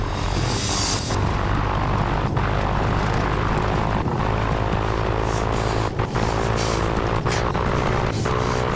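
A small airplane engine strains hard during an aborted landing at high elevation in thin mountain air in Alaska, a loud, continuous close drone that holds steady throughout with a few brief dips.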